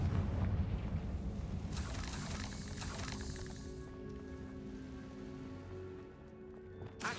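A Confringo fire spell blasts in Hogwarts Legacy, opening with a loud rumbling burst that gives way to a hissing crackle and a long, slowly fading roar, with a small thud at the end.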